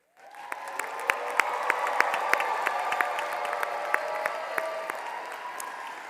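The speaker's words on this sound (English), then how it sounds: "Please join me in applauding them." A commencement audience at North Carolina Central University applauds honored graduates, a broad, sustained wash of clapping from a large crowd in a big hall, with sharper individual claps standing out.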